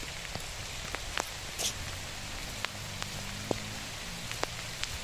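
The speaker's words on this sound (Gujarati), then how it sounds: "ઝીણો ઝીણો વરસાદ પણ ચાલુ છે અત્યારે" Light drizzle falls steadily on a Kesar mango graft nursery farm, a soft continuous hiss of rain with scattered close drops ticking through it, and no voices.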